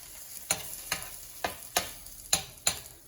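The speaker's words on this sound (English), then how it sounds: "So I'm just going to put a sample size omelette" A small Indian spicy omelette cooking on a grill over moderate heat, with a quiet sizzle beneath about seven sharp, irregularly spaced taps, close and soft.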